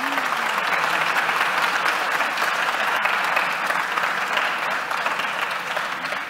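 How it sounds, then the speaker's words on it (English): Sustained applause from a conference audience for a panel discussion on cross-cultural problem-solving, a dense steady wash of many hands clapping throughout, fairly loud and even with no break. "Round of applause,"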